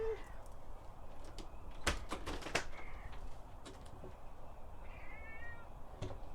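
A cat meowing to be let in, faint short calls with a few sharp knocks and clicks nearby, under quiet background noise.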